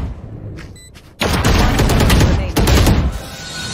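Gunfire in the video game Valorant comes as a sudden loud burst of rapid shots with a short gap and a second burst, close and harsh, after a brief quiet with small clicks.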